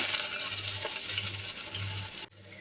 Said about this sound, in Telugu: ఇదంతా బాగా వేగిన తర్వాత పచ్చివాసన పోయేంత వరకు వేయించుకోండి